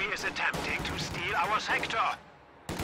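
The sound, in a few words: mortar fire in the video game Company of Heroes 2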